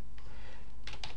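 Computer keyboard keys are tapped while code is entered in MPLAB for a microcontroller development board, a few close, crisp clicks with a quick cluster of keystrokes near the end over a steady low hum.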